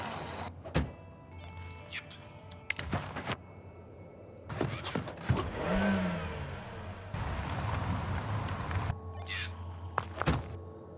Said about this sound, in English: jump in the car and drive it